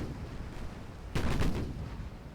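Warship guns firing in Ultimate Admiral Dreadnoughts, a naval video game: a sudden heavy salvo of a few overlapping booming shots over steady background rumble, fading into a rolling tail.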